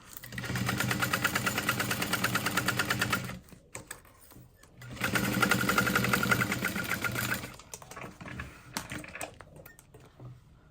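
A sewing machine basts fabric in two steady, rapid stitching runs of a few seconds each, close and even, separated by a pause with light handling clicks and ending with brief taps.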